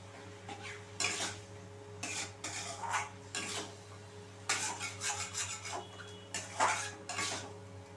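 Chicken is sautéed with ginger-garlic paste in a pan, a metal spoon scraping and clattering against the pan in irregular bursts over a steady low hum, with no talking.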